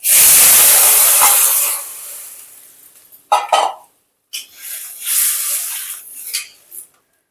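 Boiled raw papaya dropped into a hot pan of oil with spices for a vegetarian curry: a loud steamy hiss that fades, then brief scraping bursts and further rushes of sizzling. The sound is close, with no talk.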